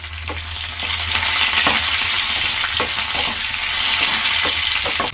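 Chana dal, mustard seeds, cumin, curry leaves and dried red chillies crackle in a loud hot-oil tempering, a dense continuous sizzle broken by repeated sharp spoon scrapes against the pan.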